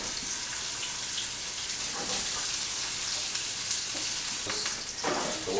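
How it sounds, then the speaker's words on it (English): Water chestnuts frying in hot oil give a continuous bright crackling sizzle up close, steady for several seconds with a few louder pops and no talking. "When it starts to sizzle, you know everything's ready."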